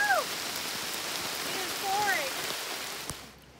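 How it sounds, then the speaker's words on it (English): Monsoon rain pattering steadily on a camping shelter beside a Toyota 4Runner, a close, continuous hiss of drops with a few bird calls drifting through. "I did need it for the monsoon rain"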